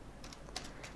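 Quick light keystrokes on a computer keyboard, a handful of soft clicks in a short burst, close and quiet with no talking.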